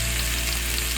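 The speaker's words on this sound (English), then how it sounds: "You should hear a nice sizzle." Steady, loud sizzling of rib eye steak frying in a hot pan over high heat, a continuous crackling hiss with no voices.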